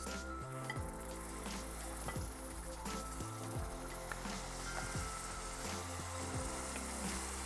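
Freshly grated tomatoes sizzle and fry in a pan for dal makhani, a steady close crackle with occasional stirring, and no voices.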